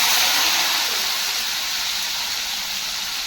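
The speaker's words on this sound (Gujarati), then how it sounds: "વઘાર આવી ગયો." Spices tempering in hot oil sizzle loudly and close, a dense steady hiss that fades slightly over a few seconds, with no talk.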